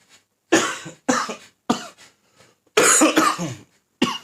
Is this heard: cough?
yes